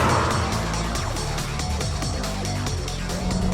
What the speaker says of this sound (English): we're driving along Mulholland Drive here at a pretty good clip